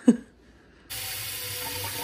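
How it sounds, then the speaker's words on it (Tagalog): Tap water runs steadily into a cooking pot in a home kitchen, a broad continuous rush that starts abruptly after a short quiet moment with a brief knock, and carries on alone at an even level. "So, mag-fill muna tayo ng tubig."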